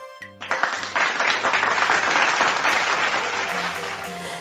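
Steady applause from a crowd, many hands clapping together for several seconds with no talking over it.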